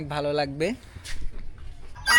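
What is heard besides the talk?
TT chickens clucking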